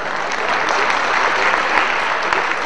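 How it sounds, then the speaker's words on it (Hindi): An audience at a 2007 musical show in Gilgit Baltistan claps in dense, continuous applause that stays loud and even from start to finish. "इन तमाम के लिए आपकी बहुत सारी तालियां जी"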